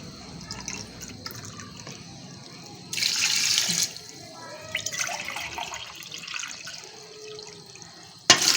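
Water is poured from a glass into a pressure cooker holding mutton pieces for Hindi/Urdu-style palak gosht, a brief splashing gush about a second long that rises clearly above quiet kitchen background, followed by softer drips and clinks.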